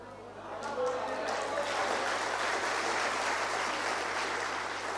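An audience at a Burmese sermon or talk bursts into applause, a dense sustained clapping that swells after half a second and continues steadily to the end.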